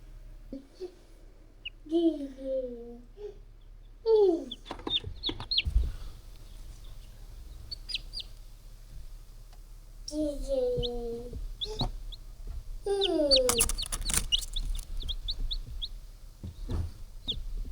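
High-pitched peeping and cheeping from baby chicks close by in a brooder, coming in short bursts with quiet gaps between them.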